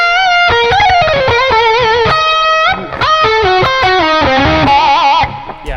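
An overdriven electric guitar plays a bright melodic lead with bends and vibrato through an Archetype: Plini amp, loud and up front with no voices.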